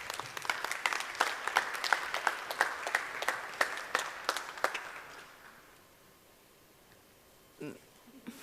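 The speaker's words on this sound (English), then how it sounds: "Please, a big round of applause for them." Audience applause at a nomad conference event, a modest crowd clapping with sharp distinct claps for about five seconds, then fading to quiet room tone.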